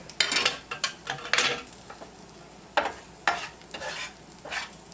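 Grilled quesadilla sandwiches sizzle softly in a pan while a utensil scrapes and clinks against it in scattered bursts, close and fairly quiet.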